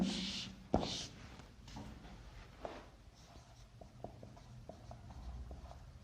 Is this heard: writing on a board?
yes